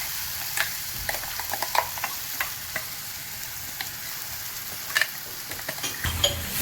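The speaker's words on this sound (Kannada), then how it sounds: "ಇದು 2-3 ನಿಮಿಷ ಹಿಂಗೆ ಫ್ರೈ ಮಾಡ್ಕೊಳ್ಬೇಕು" Fenugreek chutney tempering frying in a pan, a soft continuous sizzle broken by scattered sharp crackles and pops, moderately faint and close, with no talking.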